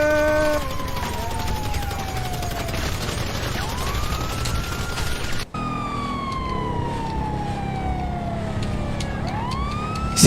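A police siren in a video game wails in long sweeping tones that slide down and rise again, loud and continuous over engine rumble, with a brief cut midway.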